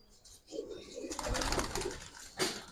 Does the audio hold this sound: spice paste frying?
no